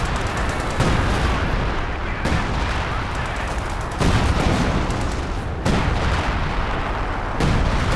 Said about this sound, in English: Let's drop down the artillery from the major.